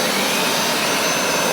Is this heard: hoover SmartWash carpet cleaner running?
yes